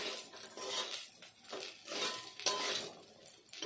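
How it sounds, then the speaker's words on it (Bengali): A spoon stirs rajma beans with spices in a pot, a soft steady run of scraping and faint clinking with a light sizzle underneath, close and quiet. "তো মশলার সাথে ভালো করে রাজমাটাও মিশিয়ে নিয়েছি"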